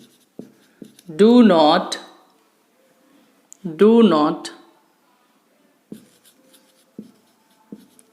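A teacher writing on a board during an English grammar lesson: brief taps and scratchy strokes between spoken phrases, with a voice talking over parts of it.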